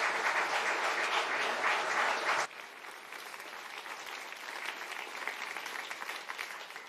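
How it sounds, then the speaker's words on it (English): Conference audience at the Poland Great Project congress applauds the three Polish prime ministers, loud massed clapping that drops abruptly to a thinner, quieter scattering of claps that continues to the end. "Why don't we greet them with an applause?"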